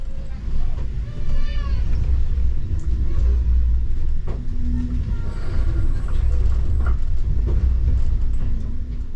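European Sleeper night train pulling out of Brussels toward Berlin, a steady low rumble of rolling stock with faint squeals and clanks throughout, heard from on board.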